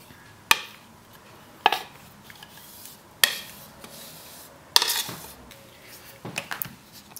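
A utensil stirs melted chocolate and glucose together in a bowl, producing four or five sharp clanks against the bowl between soft scraping and sloshing, with no talking.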